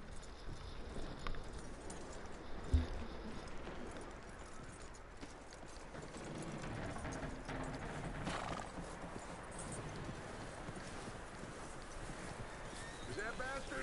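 Horse hooves clip-clop in Red Dead Redemption 2, a steady rhythm of steps under ambient game sound, with a brief whinny and talking heard over it.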